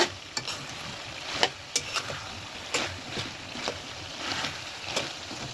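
Beef pieces for a potato and beef curry being stirred and fried in a pan, giving a low sizzle broken by repeated clicks and scrapes of a spoon against the pan at an uneven pace.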